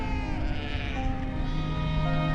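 Sheep bleating in a Ladakh highland pasture, a sustained, wavering cry heard fairly close over a steady outdoor background.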